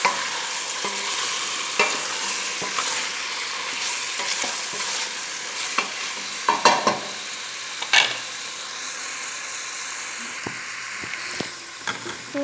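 Chicken wings stirred in coconut milk in a pan for a Filipino ginataang manok, with steady bubbling sizzle, scraping strokes and a few sharper utensil clinks against the pan throughout.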